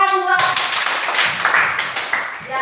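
Applause in a classroom, students clapping briskly for a few seconds, close and fairly loud, with a teacher speaking briefly before and after.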